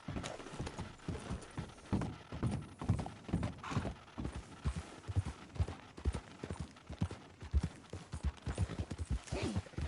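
A horse's hooves clip-clop at a steady trot in Red Dead Redemption 2, close and rhythmic with creaking tack and faint game ambience, no voices over the hoofbeats.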